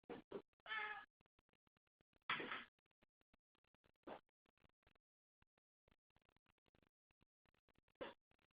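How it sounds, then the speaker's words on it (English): Large cat meowing in the background, several short, faint, separate yowls spread across near-silence, with scattered small clicks and noises between them. "It's a large cat meowing in the background."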